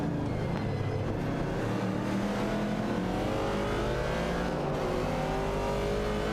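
Race car engines in an AI-driven racing video game, including a 1970 Pontiac Firebird, roar and rev continuously, with several cars' engine notes rising and overlapping in a steady, dense drone.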